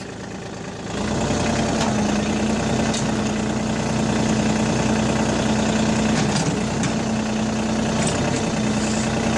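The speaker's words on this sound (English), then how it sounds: "There's the loader working." A John Deere 4410 compact tractor with its loader working, the engine starting up then holding a steady, close mid-pitched drone with a constant hum and slight hydraulic strain, no voices.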